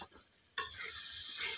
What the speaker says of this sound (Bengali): এবার আমরা ঢাকনা নামিয়ে নিব।